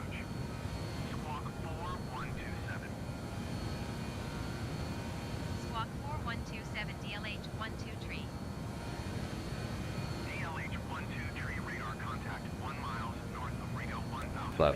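A British Aerospace airliner climbs after takeoff in Microsoft Flight Simulator 2020, its engine drone a steady, close roar under intermittent radio-style voices talking throughout.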